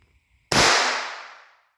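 A single sharp shot from a Walther .22 pistol during ammunition testing, a sudden loud crack about halfway through with a decaying outdoor tail, preceded by a faint steady hum and near silence.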